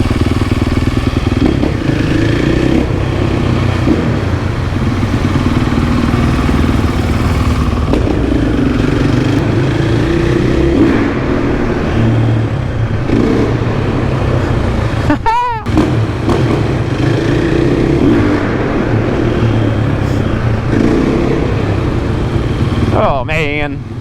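A supermoto motorcycle engine drones steadily and loudly while riding, with shifting engine tones and passing road noise, and voices talk over it at times.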